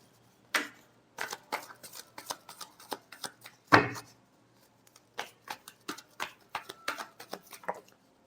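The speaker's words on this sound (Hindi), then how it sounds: "Last shuffle." A tarot deck shuffled by hand at close range, a run of soft papery riffles and flicks with one heavier thump midway; no one speaks.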